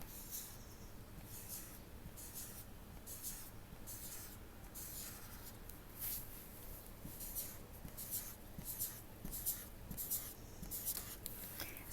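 Steady scratching of a marker or pen across a surface while eggs are drawn by hand, a run of short repeated strokes over faint room noise, with no talking.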